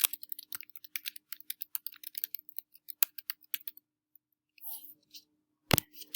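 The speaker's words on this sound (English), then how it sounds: "So I'm going to type that in." Rapid, irregular keystrokes on a computer keyboard, close and crisp, typing in bursts before pausing, followed by a couple of softer clicks and a sharper tap.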